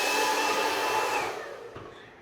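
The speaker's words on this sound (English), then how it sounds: "The blow dryer from Freestyle System, like from the Salon, same thing." A Freestyle System salon blow dryer roars with a loud, steady airy whoosh and a high whine, then winds down and fades toward the end, with no talk over it.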